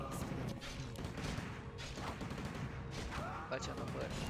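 Gunfire in a Warcraft 3 Castle DF Heroes map makes dense, loud bursts and crashing impacts that fill the whole stretch, with game voice lines mixed in.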